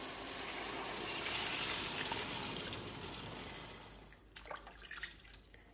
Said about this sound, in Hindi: इसमें 8 गिलास पानी यखनी के डाल लेते हैं।